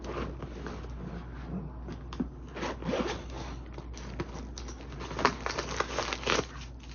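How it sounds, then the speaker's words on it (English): A zipper on a new handbag is pulled in several short, scratchy runs close up, mixed with light rustling and crinkling of material. "I have one zipper inside"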